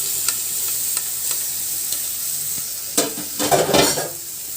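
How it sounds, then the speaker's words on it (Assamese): A mustard fish curry with ground mustard paste is stirred in a pan, giving a soft steady sizzle with faint scraping. A few louder stirring clatters come near the end, and no one speaks. "এতিয়া মই আকৌ লৰাই দিম।"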